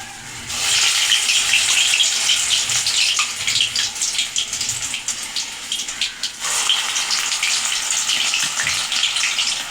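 Vada frying in hot oil at home, a steady loud sizzling hiss that dips briefly midway and then continues, close by with no talking.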